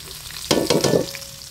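Ginger, garlic and onion hit a hot pan and sauté, a sudden loud close burst of sizzling and crackle that lasts about half a second before easing back to a low hiss.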